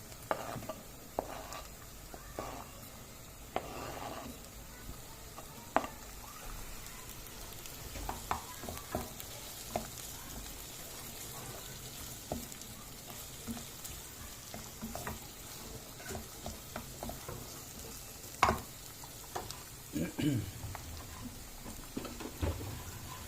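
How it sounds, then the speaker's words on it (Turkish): Eggplant and peppers fry in a pan with a steady, crackling sizzle throughout, broken by occasional louder pops and scrapes of stirring, close and without speech. "Biberlerimizi koyup onunla da biraz daha kavrulurlar."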